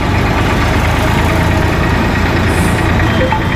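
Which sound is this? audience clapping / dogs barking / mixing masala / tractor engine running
tractor engine running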